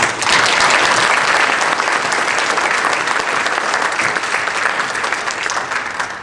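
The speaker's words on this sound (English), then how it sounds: "So please, one more round of applause." Loud, sustained applause from a crowd of diners at an annual dinner, many hands clapping in a thick continuous wash that gradually softens toward the close.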